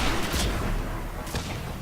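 Sniper gunfire in the Mass Effect video game, two loud, sharp reports about a second apart over dense, steady game noise, with no talk.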